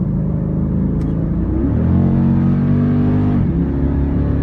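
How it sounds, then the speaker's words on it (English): A Jeep Grand Cherokee SRT8 muscle SUV accelerating hard with paddle-shifted gear changes: a loud, close engine roar climbing in pitch, a sharp dip at each shift, then a renewed rising drone. "As soon as you hit the paddle shifter, it shifts right away."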